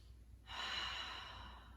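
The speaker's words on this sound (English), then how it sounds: "2 deep breaths" One deep breath taken during a towel-and-mat stretching session, a soft, airy rush that starts abruptly and holds steadily, close but faint, with no talk over it.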